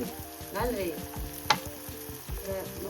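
Ginger, garlic and coriander paste fries in a hot pan with a steady, loud sizzle, broken by a few scrapes of stirring and a sharp clink near the middle, with no voices.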